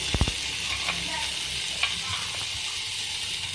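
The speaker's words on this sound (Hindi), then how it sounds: "ठीक है, इसको हल्का सा फ्राई करेंगे।" Garlic paste sizzles softly in hot oil in a pan, a steady hiss broken at the start by a few sharp clinks and later scrapes of stirring, quiet and close.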